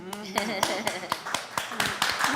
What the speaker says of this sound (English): Shout out to starting the clap, because I was clap worthy.